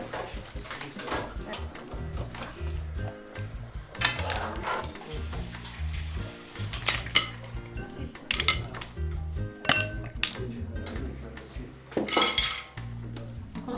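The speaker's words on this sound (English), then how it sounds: "Adriana's friends all help to take them out of their shells." Cooked mussels are pulled from their shells for Sardinian fregula pasta, giving a steady run of shell clicks and clinks against bowls and cutlery, with people talking now and then over the clatter.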